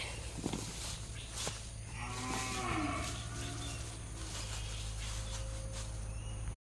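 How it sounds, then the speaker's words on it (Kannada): Calves tethered partway along a path bellow loudly and nearby, with one long drawn-out moo rising and falling over a steady rural background hum and occasional rustling. "ಕರುಗಳನ್ನು ಆಗ ಅರ್ಧ ದಾರಿಯಲ್ಲಿ ತಂದು ಕಟ್ಟಿದ್ದೆವು ಬರಲಿಕ್ಕೆ ಕೇಳಲಿಲ್ಲ ಅಂತೇಳಿ ಇವಾಗ ಬೊಬ್ಬೆ ಹಾಕ್ತಾ ಇದೆ ನೋಡಿ"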